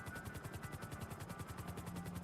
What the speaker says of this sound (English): Love the sound of the helicopter.